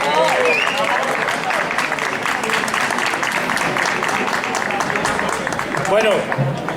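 An audience at a popular tribute event for Benito Pérez Galdós applauds steadily for several seconds while voices carry over the clapping.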